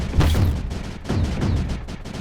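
Cannons in the strategy game Creeper World 4 fire in a rapid volley of repeated booming shots, several overlapping blasts in close succession at moderate loudness with no talking.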